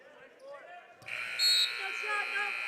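A basketball arena buzzer sounds for halftime in a college men's game, a loud sustained electronic tone cutting in after quieter court sounds, with commentary voices.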